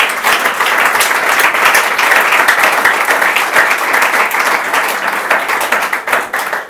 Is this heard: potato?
no